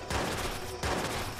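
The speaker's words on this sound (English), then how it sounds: "We trading off shots right now. He shoot me, I shoot him." Rapid gunfire from a video game shootout, two loud sustained bursts of shots back to back with a short gap between them, close and dense.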